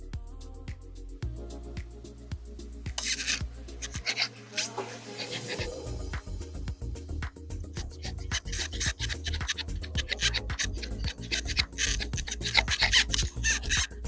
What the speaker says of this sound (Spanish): así que se lo voy a sacar con el scraper